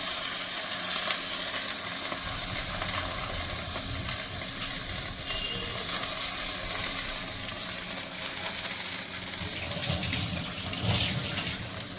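Water poured into a fish curry cooking in banana leaf, mustard paste and fish in the pan: a continuous watery rush with soft bubbling and sizzle, fairly faint and steady, no talk.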